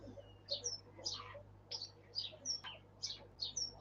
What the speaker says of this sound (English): That's just sparrows tweeting away.